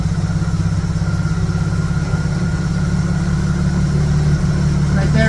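A Dodge car engine on a Stromberg BXVES-3 carburetor idles, stumbling slightly from a lean mixture, with a loud, continuous, close rumble throughout and no speech.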